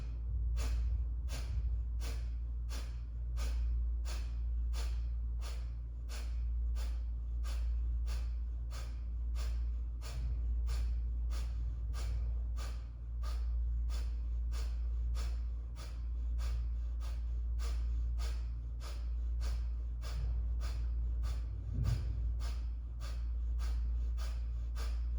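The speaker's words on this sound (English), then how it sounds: "Short, sharp, quick exhalations out the nose, snapping that belly in." Breath of fire in a Kundalini Ego Eradicator pose: a long, steady train of short, sharp nasal exhalations, evenly spaced and rapid, each a crisp puff of air, close and continuous with no talking.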